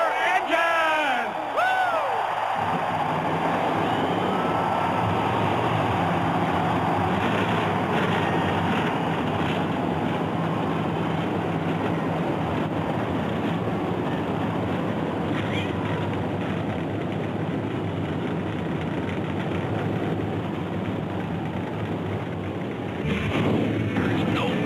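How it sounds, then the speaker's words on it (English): NASCAR race engines fire up and settle into a thick, rumbling idle amid crowd noise, with a brief rising whine at the start and a steady low drone throughout. "Gentlemen, start your engine!"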